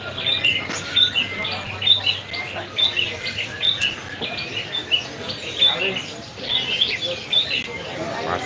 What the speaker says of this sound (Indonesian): Banyak burung-burung kecil-kecil di sini.